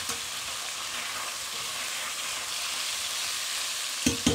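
Beef chunks browning for a beef and stout stew sizzle steadily and loudly in a pot. The frying hiss is close and continuous, and a couple of short knocks come near the end.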